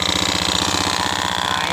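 Motorcycle engine idling steadily after being started, a close, loud, even mechanical hum with a rapid regular pulse throughout and no speech over it.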